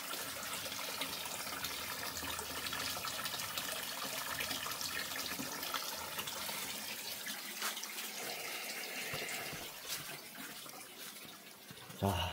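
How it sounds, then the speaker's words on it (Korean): Natural spring water runs continuously outdoors at a rural home, a steady, close rushing and splashing flow that holds at an even level, with brief handling noise near the end. "자연수가 끊임없이 이렇게 흘러나오고"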